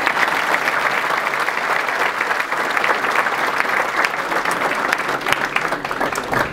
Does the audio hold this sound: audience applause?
yes